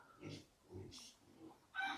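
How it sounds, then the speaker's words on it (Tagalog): Pigs raised on a farm for a wedding feast grunt and oink in short bursts at close range, with a brief higher squeal at the end and faint rural background. "Itong mga baboy na to, handa to sa kasal."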